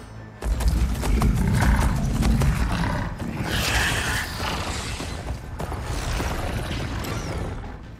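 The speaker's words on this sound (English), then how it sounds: "They're riding machines." Riders on mechanical machine mounts charge in the video game Horizon Forbidden West, a dense rumbling surge of creaking metal, heavy footfalls and growling roars, loud and continuous throughout.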